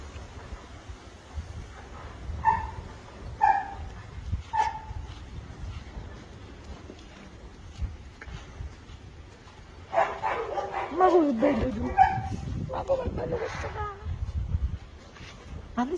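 A dog barks and whimpers in short, separate bursts through the first few seconds. Louder yips and whines cluster later, while someone speaks to it encouragingly throughout.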